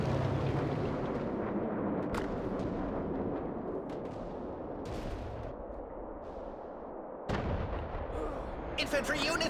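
Cannon artillery in a WWA RTS war game fires repeatedly in heavy overlapping booms and rumbling blasts, loud and continuous, with a sharp burst near the end and battle clatter throughout.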